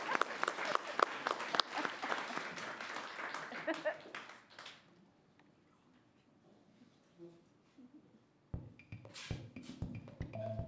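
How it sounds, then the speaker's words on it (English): A studio audience at a late-night comedy show claps loudly for the house band, the applause fading out after a few seconds into near quiet before a voice starts talking. "Could you keep clapping for my band"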